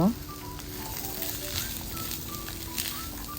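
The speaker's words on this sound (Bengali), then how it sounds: "আমি চাল ডাল ধুয়ে রাখা সেগুলো দিয়ে দিলাম লেড়ে চেড়ে একটু ভেজে নিব" Washed rice and lentils with chili powder tossed in a hot pan for bhuna khichuri, giving a steady, moderate sizzle with faint stirring scrapes, close and continuous with no voices.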